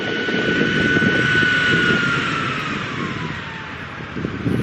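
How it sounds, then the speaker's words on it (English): On a golf course, a leaf blower drones steadily with a high, whining roar that holds level and then slowly fades as it winds down, heard from a short distance. "Awkward time to stop the blower right as he's approaching his shot."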